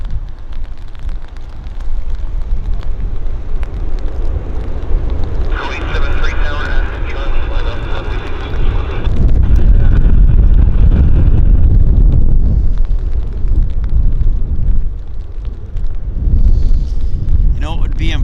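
An Air Canada jet takes off at Vancouver airport, a distant, steady engine roar swelling under gusty wind on the microphone.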